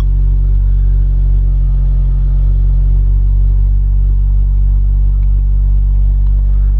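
A Mitsubishi car engine idles steadily during a data logging session, giving a loud, constant low rumble with a smooth, unchanging hum and no talk over it.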